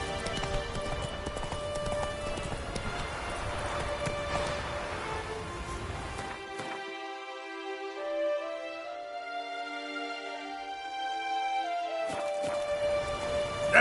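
Hooves of a galloping horse in The Witcher 3 clip-clop in a fast steady rhythm, loud and close, layered over a sustained musical score and game ambience.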